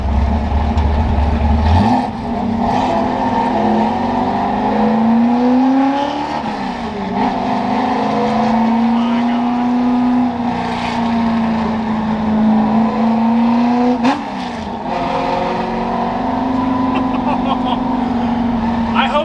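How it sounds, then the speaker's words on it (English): A loud, close, high-revving short-stroke engine in a Ford F-100 truck roars and revs high, its pitch climbing and holding in long sustained pulls, with a brief throttle blip near the start and another later. "I've never heard a street legal vehicle sound like this thing."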